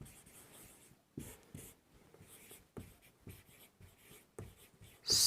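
Chalk or marker scratches out a grammar rule on a classroom board in bursts of short strokes with brief pauses, close and clear, with no talking.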